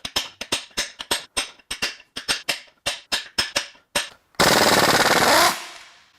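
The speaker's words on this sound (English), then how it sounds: "let's just chisel on them all and see what happens." An air chisel hammers on the Nissan VQ38D 3.8-litre V6 engine block, firing in a dozen or so sharp rapid bursts, followed by a loud, sustained rush of air or grinding for about a second.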